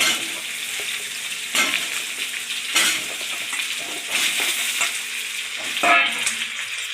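Pointed gourd and prawns fry and get stirred in a pan for a Bengali potol chingri dish. Steady sizzling runs throughout, broken by several loud stirring scrapes, with no talking.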